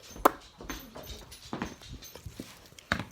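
A dog whimpers and whines in short, faint bursts with scattered rustling and shuffling nearby in a quiet indoor room.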